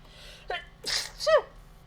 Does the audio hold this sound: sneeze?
yes